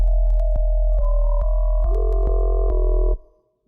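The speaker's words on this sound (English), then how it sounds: "It sounds bubbly when there's a lot of harmonics like stacking up." Steady synthesized sine tones with stacked harmonics shift between pitches, punctuated by regular clicks, giving a bubbly electronic texture before cutting off abruptly.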